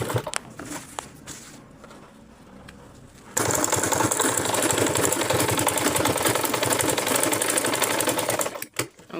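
A sewing machine stitches a fabric lining end to end, a steady loud mechanical whirr starting abruptly after a quieter few seconds and running continuously until it stops near the end.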